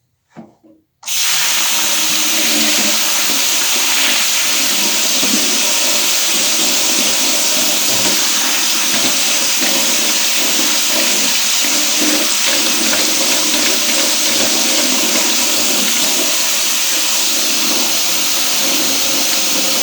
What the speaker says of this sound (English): Why don't I wash the rice through the sieve.